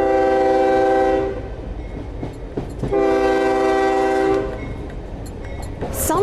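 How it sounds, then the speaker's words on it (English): A train near Perth's railway lines sounds two long, loud harmonic horn blasts separated by a short pause, with rumbling rail noise between and after them. "how trains sounding their horns is becoming something of a problem for residents living near Perth's railway lines"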